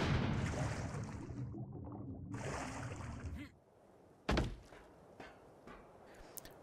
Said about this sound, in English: So if I plant C4 and detonate it